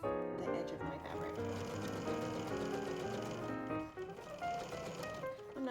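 A sewing machine stitches elastic onto fabric for a racerback sports bra, running in a steady, continuous whir close by throughout, with a brief slowdown partway before it picks up again.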